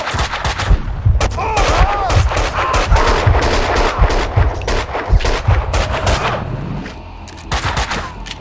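Gunfire in the Max Payne 2 video game: a dense burst of rapid shots and booming impacts, loud and near, with scattered game voices mixed in before the firing tapers off.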